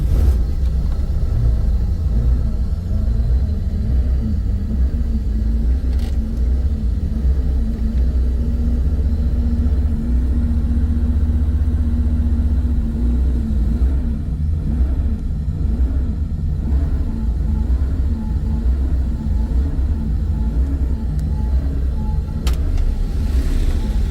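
A 1990 Porsche 911 Carrera, cold after sitting in a showroom bay, idles with a deep, steady rumble close by, its engine note holding a constant low throb with slight fluctuations and a couple of brief clicks.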